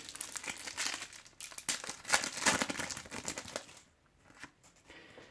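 A foil pack of football trading cards is torn open and the cards handled, producing dense crinkling and rustling that fades to a few softer shuffles near the end.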